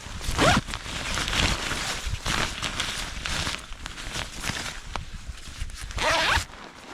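Repeated zipper pulls on a tarp survival blanket, quick raspy zips up close, one after another with brief pauses, the last few sharp and loud.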